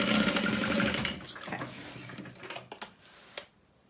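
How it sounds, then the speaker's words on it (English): A sewing machine runs steadily while reinforcing a stitch line on a Lola handbag, then slows into a few short bursts and clicks before stopping. "So I'm just gonna reinforce this stitch line."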